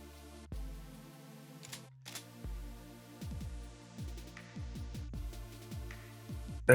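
Small screw being turned out of a Kershaw Lucha folding knife handle with a driver, a run of close, quiet metallic clicks and ticks coming in uneven bursts, with no voices.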